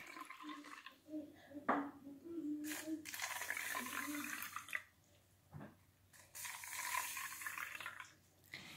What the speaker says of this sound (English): Now she's going to fill the cups to the line we've drawn on the cups with warm water.